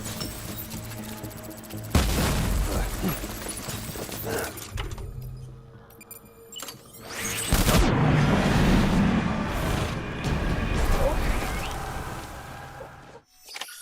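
Bombing explosions in the video game Death Stranding, with loud booms and rolling blasts that rumble on under sustained battle noise and fade near the end.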